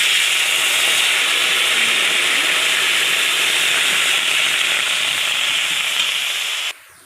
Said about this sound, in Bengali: কড়ার মধ্যে একটু জল দিয়ে দেবো